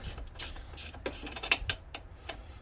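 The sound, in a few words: 17 mm ratcheting wrench clicking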